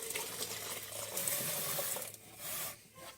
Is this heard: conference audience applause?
no